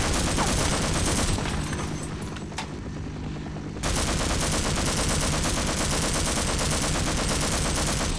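Continuous gunfire and explosions from the Half-Life video game, dense rapid bursts that dip briefly then return at full loudness.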